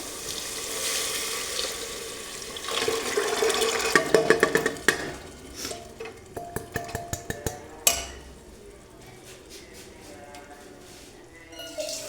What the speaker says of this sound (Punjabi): ਪਾਣੀ ਹੋਰ ਪਾ ਦੇਾਂਗੇ ਵਿੱਚ ਥੋੜਾ ਜਿਹਾ